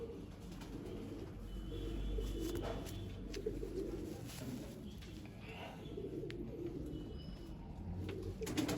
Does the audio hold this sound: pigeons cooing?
yes